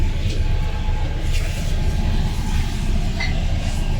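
Steady low rumble of a bus interior in motion in wintry Germany, a constant engine and road drone with faint rattles, no voices.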